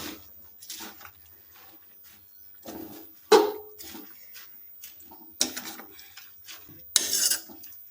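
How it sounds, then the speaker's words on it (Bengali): Spinach stirred in a wok with a metal ladle gives a few scattered clinks and scrapes against the pan, quiet and spaced between pauses, with no talk. "সমস্ত পালং শাকগুলো যোগ করে আমরা ভালোভাবে দু মিনিট নাড়িয়ে নিচ্ছি"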